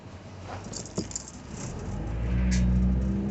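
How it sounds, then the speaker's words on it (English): Muffled engine rumble inside a moving car, with a few jangles and rattles early on before a steady low drone builds. "Please excuse the noise in the background. I'm driving to work"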